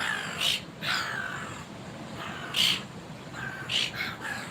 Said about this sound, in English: I'm sorry that you had to be witness to that ugly seagull on seagull violence